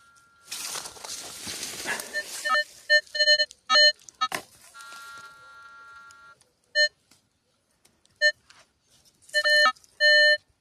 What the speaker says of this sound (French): On va regarder au détecteur.